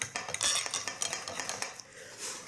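A cheeseburger is cut with cutlery in a pan, giving a quick run of close metallic scrapes and clinks against the pan over a light background sizzle.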